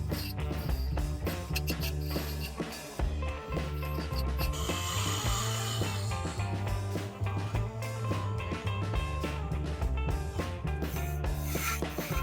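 A wooden rolling pin spinning on a wood lathe, the chisel rasping and scraping continuously against the turning wood with rhythmic rubbing and mechanical rattling throughout, loud and close.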